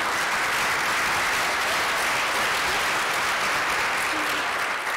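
Sustained applause fills an audience at an education technology conference, dense and steady throughout with no voices breaking through.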